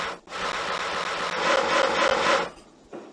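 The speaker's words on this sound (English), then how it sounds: "Use the saw to cut out 2 solar panels." A saw cuts out solar panels in the 1998 PC game Tonka Workshop, a steady, loud rasping stroke that runs for about two seconds and then cuts off, with a short faint tail afterward.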